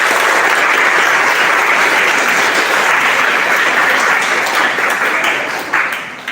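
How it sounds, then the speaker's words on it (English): An audience applauds for Bola, sustained loud clapping from many hands that holds steady, then thins out and fades near the end. "please give applause to Bola."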